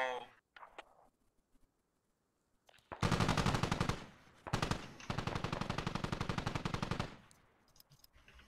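Sustained bursts of enemy M4 rifle fire in the military shooter Squad, two long rapid volleys a few seconds apart, loud and close after a quiet stretch with scattered faint pops.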